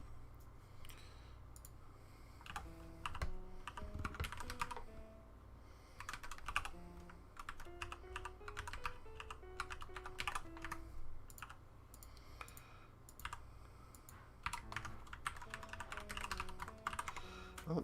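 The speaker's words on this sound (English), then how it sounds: "Hopefully my keyboard isn't too obnoxious." A computer keyboard clicks away under a close microphone while a piece by Amy Beach is transcribed, rapid irregular bursts of keystrokes with short pauses, alongside soft piano notes in the background.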